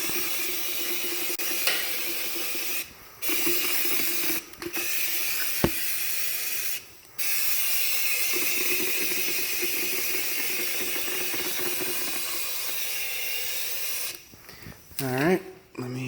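Spray paint goes on in a light coat as gear for an off-road jack mount is finished, a close steady hiss in long bursts broken by short pauses between passes.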